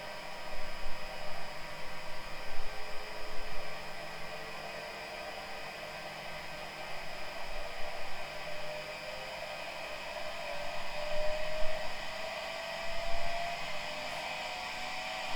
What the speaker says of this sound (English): You can hear the pump gaining speed